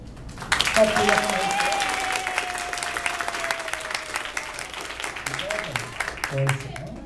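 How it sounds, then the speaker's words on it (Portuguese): An audience at a Harry Potter cosplay event breaks into sustained applause, with dense steady clapping heard under people talking and calling out. "vamos aplaudir então"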